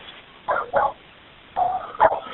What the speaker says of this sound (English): I thought I heard a dog yelping